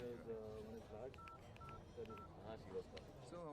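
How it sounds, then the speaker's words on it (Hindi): Three short, evenly spaced telephone dialing tones beep beneath continuous talking and background music. "तो फोन उठाओ, घुमाओ।"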